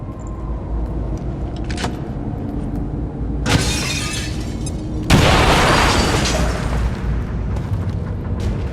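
Grenade blasts in XCOM 2 during a tactical mission: two loud booming explosions a couple of seconds apart, each with shattering debris and a lingering rumbling tail, close and alone without talk.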